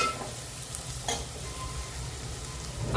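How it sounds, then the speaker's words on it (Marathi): Chopped tomato frying in a pan with Agri Koli masala for a prawn curry, a steady close sizzle with stirring scrapes and a brief louder burst near the middle. "आणि आता आपण टाकूया आपलं 1 चिरलेलं टोमॅटो."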